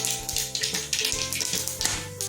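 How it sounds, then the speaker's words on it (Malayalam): Mustard seeds crackle and pop rapidly in hot oil, a dense sizzling patter with sharp little bursts, close by and with no voices. "കടുക് പൊട്ടി കഴിഞ്ഞതിന് ശേഷം"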